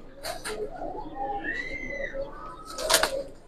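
Domestic pigeons kept for sale, Giribaz and racer breeds, give soft repeated coos at close range, mixed with a few brief higher calls and faint background noise.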